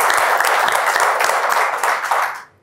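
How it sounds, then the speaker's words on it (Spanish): Theatre audience breaks into sustained applause, a dense wash of many hands clapping close and loud, tapering off near the end. "Un aplauso."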